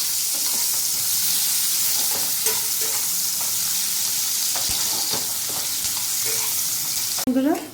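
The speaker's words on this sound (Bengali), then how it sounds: "পেঁয়াজটা এখন লাল লাল করে ভেজে নিতে হবে।" Onions fry with mushrooms in a pan for a masala, a loud, continuous sizzle with occasional stirring scrapes and a sharp utensil clatter right at the end.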